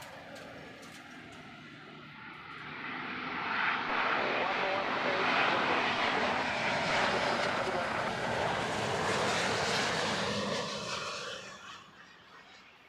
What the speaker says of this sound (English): Beautiful Finnair 350 floating in,